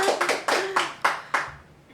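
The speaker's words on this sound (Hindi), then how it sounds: "और जोरदार तालियां गुंजन जी के लिए" Sparse, crisp handclaps from a small studio audience on a Bhojpuri talk show, honouring actress Gunjan Pant: about six separate bursts of clapping that fade quickly, close and fairly loud, with no talking.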